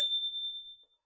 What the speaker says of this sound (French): Ensuite, nous avons le klaxon.